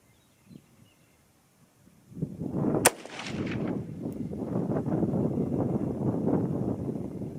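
A single sharp rifle shot fired with 55 grain ammunition on an outdoor range cracks loudly and close by, then leaves a long rumbling echo that trails off across the open ground.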